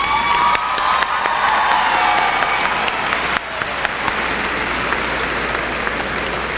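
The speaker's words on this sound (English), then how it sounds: "Please join me in giving these platform members a round of applause." Applause at a 2019 high school graduation ceremony for the platform party, a dense, steady clapping from a large crowd that fills the space without a break, with a few faint cheers and shouts mixed in.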